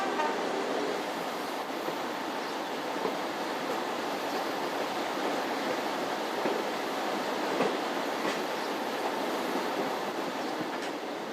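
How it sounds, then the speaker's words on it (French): A French railcar rolls along single-track rails through the countryside, a steady rumbling hiss of wheels with faint rhythmic clicks over rail joints, constant and moderately loud throughout. "l'autorail quitte l'Alsace et prend de la vitesse dans une campagne"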